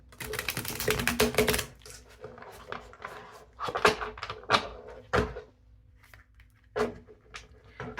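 Tarot cards are shuffled and pulled from the deck in close, clicky bursts of riffling and slapping, a dense flurry at first and then scattered taps with short pauses.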